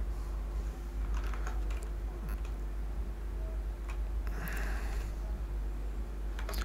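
Keystrokes on a computer keyboard while entering a command, soft and close, with a few sparse clicks over a steady background hum and no speech.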